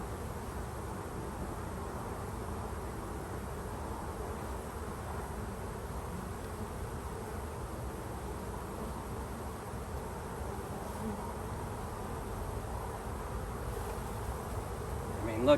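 Honey bees buzzing during a swarm catch hive inspection, a faint, continuous, even hum of many insects throughout with no break.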